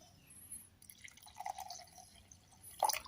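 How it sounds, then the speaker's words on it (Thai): Plain water poured into a glass of crushed plant pesticide mix gives faint, brief dripping and trickling at close range, ending in a short, louder splash. "เสร็จแล้วให้เราใส่ น้ำเปล่าลงไปครับ"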